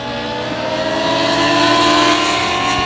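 Stock race car engine at 281 Speedway, a loud sustained mid-pitched roar that swells slightly and stays steady throughout, alone without talk.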